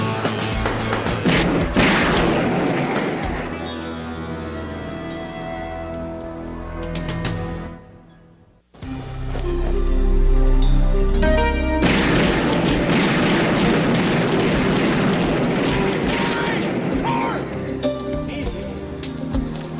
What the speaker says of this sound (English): Shoot him! Shoot him! Shoot him!